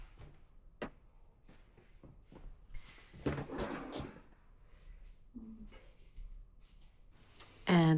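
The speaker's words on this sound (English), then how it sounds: "Every time when I move the door, those straps are just making sounds." A door swings back and forth while bag straps hanging on it rattle and knock, making a series of scattered clacks and a louder scraping burst near the middle, ending with a sharp bump.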